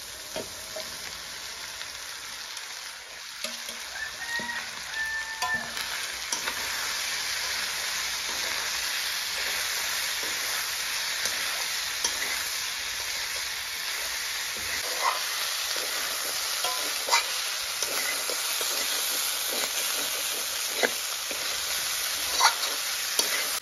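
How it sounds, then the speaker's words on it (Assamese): Meat and taro flowers sizzle and fry steadily in a hot pan, with occasional stirring scrapes and no voices. "কচু ফুলৰ লগত মাংস অকণমান টাইম ভাজিলোঁ"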